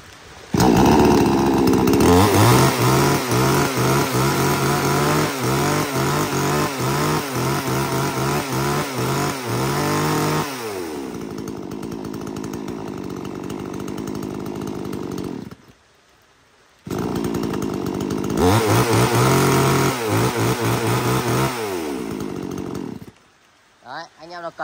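A used Japanese-market chainsaw is test-run, loud and close, with a continuous buzzing engine and sharp revving bursts. It settles to a rougher idle, cuts out briefly, then roars back before stopping.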